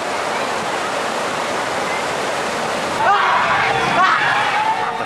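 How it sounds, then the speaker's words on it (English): Fast-flowing flood water of the River Nyamwamba rushes in a loud, steady roar, with a voice speaking over it toward the end. "The fast flowing water has broken the creeks, washing away homes, a hospital, and cutting off several roads."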